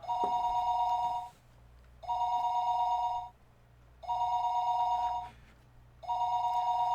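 Telephone ringing tone heard through a receiver in repeated long electronic buzzes, each about a second and a half, separated by short pauses, steady and clear with no voices.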